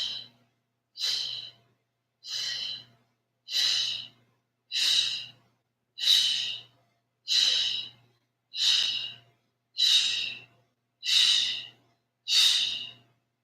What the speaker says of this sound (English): Exhale to reach.